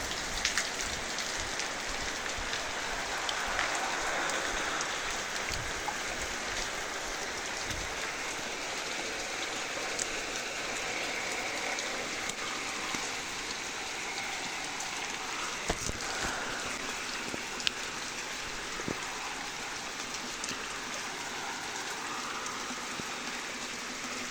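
Steady rain falling and strengthening outdoors, pattering on surfaces with scattered nearer drips and taps, a constant wash of sound with no talking.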